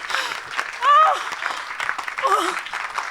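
A church congregation applauds continuously, a dense wash of clapping heard throughout while voices call out and shout over it.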